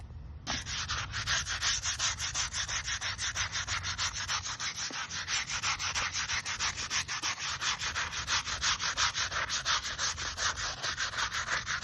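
A brush scrubs a stone headstone in a cemetery with fast, steady back-and-forth strokes, a close, continuous rasping rhythm that runs without a break for the whole stretch.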